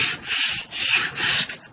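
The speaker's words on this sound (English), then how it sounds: "I'm going to come in with this rubber block sander. I'm going to sand in the X formation." Rubber block sander scraping across body filler on a dent repair, worked in an X pattern: three loud, broad rasping strokes, each about half a second, separated by brief pauses, close up with no talking.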